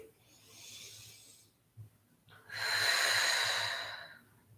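Two slow, deep breaths during a back-focused yoga stretch: a soft exhale followed by a longer, fuller, louder breath, close and breathy, with no talking.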